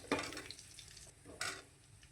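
Curry leaves fry in hot oil for mutton sukka, giving two short bursts of sizzling and stirring, the first stronger, then a quieter crackle in between, close by and fairly soft with no talking.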